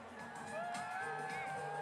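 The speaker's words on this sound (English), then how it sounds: "The crowd is building, and as you can see, it's as crazy as ever here." A New Year's Eve crowd in Times Square whoops and cheers in a steady, distant roar, with scattered shouts rising out of the dense noise and a faint voice mixed in.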